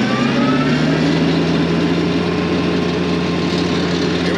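Tractor engine pulling a flail mower in mid range, a loud, steady low drone running unbroken throughout at close range.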